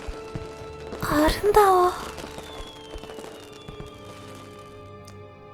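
Fireworks from a Korean audio fairy tale of the little mermaid crackle and whistle in a brief burst amid narration, with a high-pitched voice speaking over the bangs.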